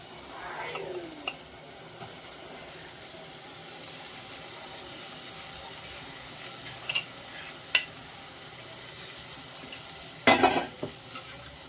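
Boiled broad beans go into a pan for a tomato curry and get stirred, a faint sizzle beneath sparse spoon scrapes and a few sharp metallic knocks near the end, no speech.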